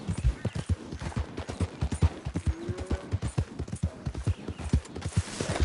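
A galloping horse in a PS4 video game, with a fast, steady stream of hoof clip-clops pounding close and even throughout, and a faint tonal whine briefly in the middle.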